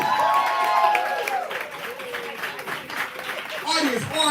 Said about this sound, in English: We clapping, we building energy.